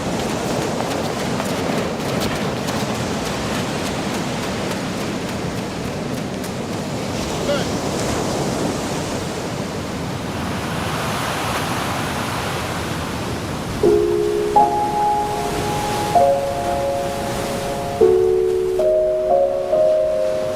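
Ocean waves wash onto a sandy beach, a steady, loud roar of surf mixed with gusting wind noise, and a few soft musical tones come in toward the end.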